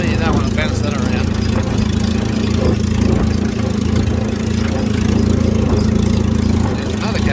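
An old McCormick International AW6 tractor engine chugging steadily with a low droning hum, loud and close, while a voice talks over it; it tops out at 1600 rpm.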